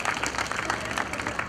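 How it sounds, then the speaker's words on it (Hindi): Crowd at a meditation centre's grand opening in Titwala claps together in a quick, steady burst, moderately loud, with no talk over it. "टीटवाला वालों को नया सेंटर मिला उसके लिए ताली बजाओ।"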